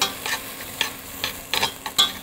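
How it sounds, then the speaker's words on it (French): Onions fry in a pan while being stirred, with a soft continuous sizzle and periodic scraping strokes of the utensil. "nous pouvons fricasser nos oignons"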